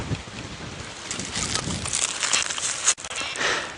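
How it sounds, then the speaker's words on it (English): Gusty wind buffets an outdoor microphone on a morning safari drive, producing loud, continuous rumbling broadband noise with brief dropouts and sharp gusts near the end. "it is quite windy"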